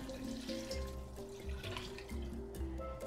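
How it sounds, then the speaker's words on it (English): Water pours steadily into a pot of pre-soaked dried beans for chuckwagon beans, a faint continuous splashing stream with some low kitchen hum and clinks. "So I'm gonna go in with 7 cups of water"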